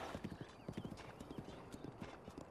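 Epona, a horse in Zelda: Breath of the Wild, gallops with rapid, rhythmic hoofbeat clip-clops against a dense bed of wind and ambient game noise.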